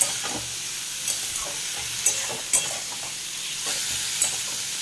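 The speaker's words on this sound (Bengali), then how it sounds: "একটু ভালো করে নাড়া দিয়ে এবার ঢাকা দিয়ে দেবো।" Vegetable stalks with potato frying in a pan and being stirred, a steady sizzle with a few sharp scrapes and clacks of the utensil at irregular intervals.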